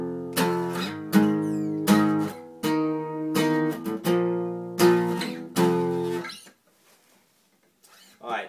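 Strummed guitar chords from a song's verse and intro pattern, a series of loud rhythmic strums with ringing harmonics, played alone and ending in a short silence with faint noise.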